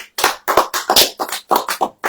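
Rhythmic clapping from a church congregation during a sermon, about eight sharp claps in a steady beat, loud and near, with no talk over them.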